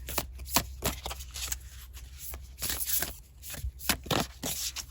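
Tarot cards being shuffled close up, a steady run of crisp riffling bursts and soft slaps with no talking.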